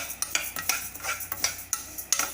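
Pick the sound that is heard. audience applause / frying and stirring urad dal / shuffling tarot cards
frying and stirring urad dal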